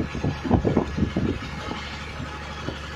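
A ferry boat engine chugs on the Alappuzha backwaters, with a nearby uneven knocking rumble that fades to a steadier low drone.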